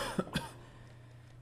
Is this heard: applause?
no